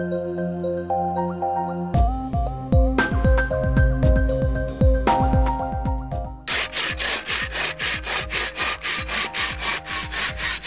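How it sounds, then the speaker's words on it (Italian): Tuff stone being worked by hand with a saw, loud close rhythmic rasping strokes, slow at first and then quicker and steadier, with tonal ringing underneath. "Sto lavorando il tufo"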